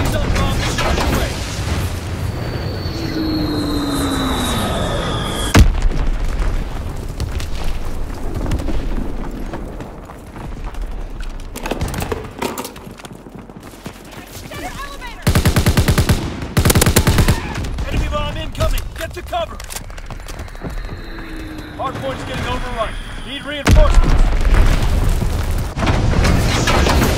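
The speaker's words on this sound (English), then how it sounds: "Recon bomb mission underway." Bombing run in Call of Duty WWII, with heavy booming explosions and bursts of machine-gun fire rolling through a loud wartime battle, blasts clustering near the start, middle and end.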